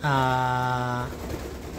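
A racing pigeon gives a sustained, steady cooing call for about a second, then quieter background noise follows.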